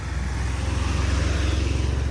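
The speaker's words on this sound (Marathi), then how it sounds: "या ठिकाणी आहे ना वाहतूक चालू असते या रस्त्याला" Heavy road traffic on a bridge over a flooded river, dominated by a close vehicle engine's loud low pulsing drone with steady rumble and no talking.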